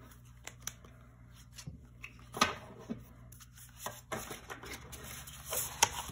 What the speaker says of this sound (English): I'm gonna try to shuffle that again.